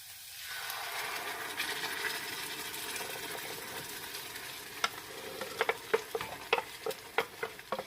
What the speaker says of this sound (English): So I'm going to give it a nice stir.